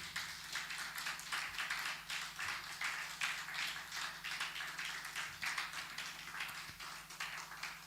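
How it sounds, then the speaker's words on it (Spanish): A church congregation applauds during a Spanish-language Sunday family service, a dense, steady wash of many hands clapping at moderate distance with a low hum underneath and no voices on top. "Denle ese aplauso al Señor."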